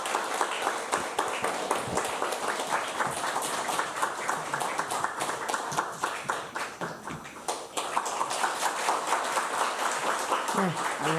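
A church congregation at a Sunday service at Onnuri Church Osaka applauds with dense, steady clapping throughout, briefly thinning near the middle, with a few voices mixed in.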